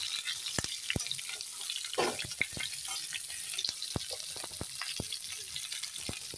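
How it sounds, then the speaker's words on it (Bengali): Cauliflower pieces frying together in hot oil in a wok for a vegetarian Holi dish: a soft, continuous sizzle punctuated by sharp clicks and knocks from stirring, moderately quiet and close. "তেল গরম হয়ে গেছে, তো এখন ফুলকপিটা দিয়ে দিলাম সবগুলো একসাথে। এখন আস্তে আস্তে করে ভেজে নেব।"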